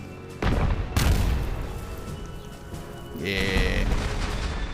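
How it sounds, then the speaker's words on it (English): Cannon fire from British ships in a video game, with distant booms layered beneath nearer heavy blasts over a continuous rumbling battle din, while a voice speaks briefly. "The distant cannon fire and the closer cannon."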